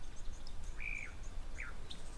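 Go-away birds give a couple of short, thin calls at an African waterhole, faint and distant over a low steady background hum.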